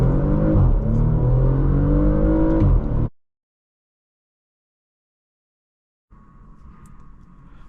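A 2023 Porsche Macan S pulls away from idle, its engine rising in a loud, close revving surge for about three seconds before cutting off, followed by a quieter lower hum.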